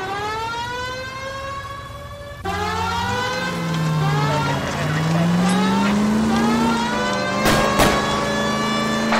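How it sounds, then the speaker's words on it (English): A car races through a police pursuit in the video game L.A. Noire, with a rising and falling engine whine and a siren-like wail sustained loudly throughout, plus a sharp burst of impact or skid noise near the end. "That's Kelso's car."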